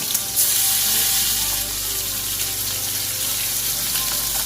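Chicken wings fry in hot oil for Jamaican-style curry wings, giving a steady, loud, close sizzle and crackle that runs the whole time with no talking.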